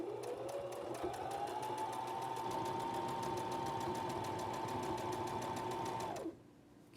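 A sewing machine stitches through quilt batting in one steady, close, continuous run of rapid mechanical pulsing lasting about six seconds, then stops abruptly.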